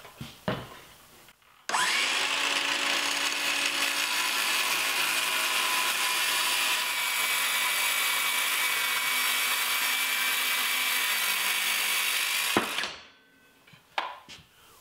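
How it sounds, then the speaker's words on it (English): Circular saw cutting a wooden board clamped to a table, building a top-bar beehive: a short spin-up, then about eleven seconds of loud steady whining cut, ending in a wind-down and a few handling knocks. "I'll make this cut using a circular saw"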